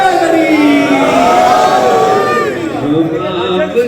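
An audience at a religious celebration gathering shouts slogans together in unison, a loud rising crowd chant of many voices that swells and then tapers off near the end.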